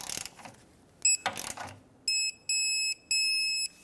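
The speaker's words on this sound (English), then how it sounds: "Now let's put on the mounting nut on the bottom and tighten it up." Ratchet wrench tightening the bottom mounting nut of a rear sway bar link on a 2014-2021 Mazda 6, heard as a few short bursts of clicking, followed by several sustained high-pitched electronic beeps.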